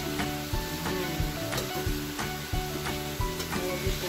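Ground pork and egg omelette frying in a pan, a steady close sizzle with light scraping and stirring taps repeating through it.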